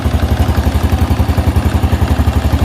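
Motorcycle engine with a worn-out battery runs steadily at close range, a loud, even chugging pulse with rattly clatter and no voices.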